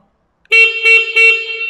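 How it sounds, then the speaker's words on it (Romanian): A CFMOTO 800 MT motorcycle horn gives a loud, close blare after a moment of silence, pulsing three times as one continuous tone. "Iar claxonul este foarte, foarte puternic."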